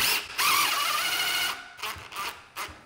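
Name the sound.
screws being tightened to mount light fixture to ceiling box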